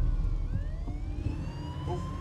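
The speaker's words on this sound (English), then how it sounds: "You hear them sirens?" Police sirens wailing at a distance in a city street, faint rising and falling tones layered over low traffic rumble and background noise, with no voices.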